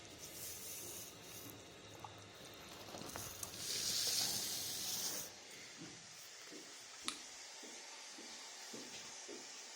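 Water leaking from a faulty concealed pipe installation in a bathroom, heard as a faint steady trickle and hiss with scattered drips and one sharper tap, no voices.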